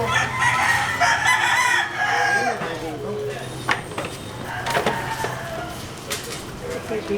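A rooster crows and chickens cluck amid a busy outdoor street-clearing operation, with voices talking over the birds and scattered clatter nearby.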